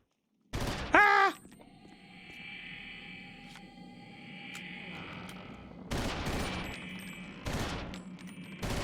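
Gunfire in the game Eternal Darkness: Sanity's Requiem: a couple of sharp, loud blasts, then a calmer stretch of droning ambience, then two more bursts.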